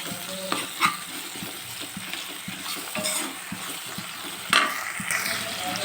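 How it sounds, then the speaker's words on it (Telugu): Ginger paste frying with softened onions for egg curry, a continuous sizzle broken by repeated scrapes and stirring taps of a spoon in the pan, close and alone. "చూడండి, వాసన పోయే వరకు అయితే ఇది ఫ్రై చేసుకోవాలి."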